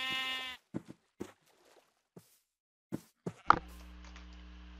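Several short sheep bleats from Minecraft, scattered and separated by pauses, with quiet clicks between them and a sustained tone at the end.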